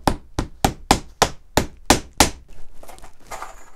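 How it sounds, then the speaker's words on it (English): A hammer drives decorative nails into cowhide with about eight sharp, evenly spaced blows close by, then a few softer taps and handling noises. "I still do it with the hammer."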